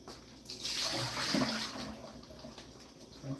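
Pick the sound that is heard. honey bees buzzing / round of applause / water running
water running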